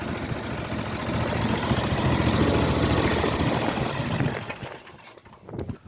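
A John Deere Ztrak 920m zero-turn mower with a 60-inch deck runs with its blades spinning, a loud, dense engine roar and whir that swells and then begins to fade and wind down.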